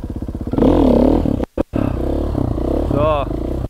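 A motorcycle engine revs and rises in pitch during wheelie practice after a long break, loud and close, with a brief cut-out midway before the engine picks up again.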